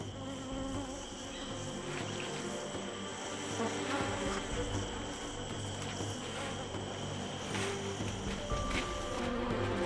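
Wasps buzz steadily and densely from a disturbed nest on the rainforest floor during a Wayana hunt in the Amazon, a close, continuous insect drone with other forest insects around and no talk.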